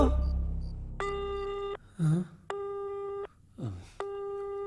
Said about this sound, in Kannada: ರಿಂಗ್ ಆಗ್ತಿದೆ ರಿಂಗ್ ಆಗ್ತಿದೆ ತೆಗಿಯೋ ಫೋನು